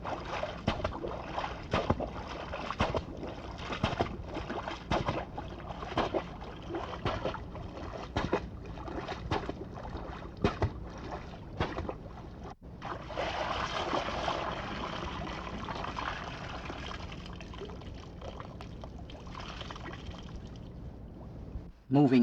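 Water thrashed and splashed by a hunter to imitate a moose moving through a lake or marsh, with repeated sloshing surges and churning that continue for about twenty seconds, close by.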